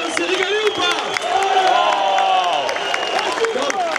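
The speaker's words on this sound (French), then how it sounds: "on applaudit les Malgaches" A packed crowd at the Mondial La Marseillaise pétanque tournament applauds and cheers the Madagascar team after a 13-12 win, with steady dense clapping and raised voices filling the space.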